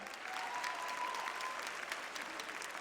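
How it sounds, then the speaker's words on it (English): An audience at the Miss Universe 2009 preliminary competition claps steadily throughout, dense and even applause filling the hall at moderate distance. "please give a round of applause for the lovely Paula Sugar"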